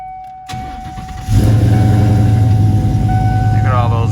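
A Ford Coyote V8 swapped into a Foxbody Mustang that had sat for many years cranks and catches close by, settling into a steady, fairly quiet idle.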